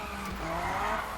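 A car drifts with tires skidding in the Need For Speed (2015) racing game, a sustained squealing screech layered over a steady engine drone, loud and unbroken through the short stretch.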